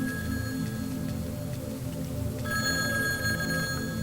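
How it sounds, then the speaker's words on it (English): Telephone ringing in the horror video game Boreal Tenebrae, a steady repeating electronic ring that carries through the whole stretch and swells louder near the end over a low droning ambient background. "There's a phone ringing"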